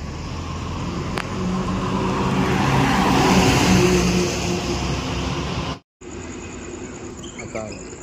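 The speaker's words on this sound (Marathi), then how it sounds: "गाडी आता दशभूष ट्रॅव्हल्स आली आहे." A Dashabhuj Lakshmi-Ganesh Travels coach bus approaches and arrives on the road from Ratnagiri toward Mumbai, its engine swelling into a loud, steady roar, then cutting briefly before continuing more quietly.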